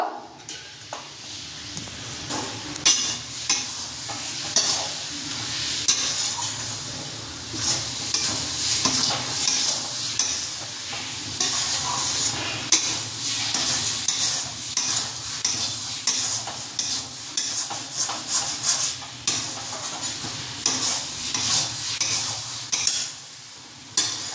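Red amaranth greens (lal shak), a quick lal shak ghonto, are stirred and mixed in a frying pan, with repeated scraping and clinking of a spatula over a low sizzle, close and busy throughout.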